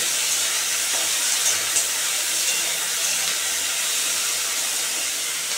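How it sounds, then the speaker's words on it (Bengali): Shrimp and garlic fry together in a pan as a first step toward a jackfruit-seed mash, giving a steady, even sizzle and hiss that holds at the same level throughout without a break. "চিংড়ি মাছ রসুনগুলোও ভেজে নেব"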